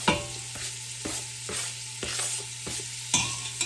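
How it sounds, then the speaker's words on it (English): Onions and celery sizzle steadily in hot oil, with a spoon scraping and stirring the pan in regular strokes every half second or so, close up. "You want to hear that sizzle too."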